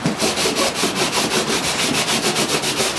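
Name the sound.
sanding fish-skin parchment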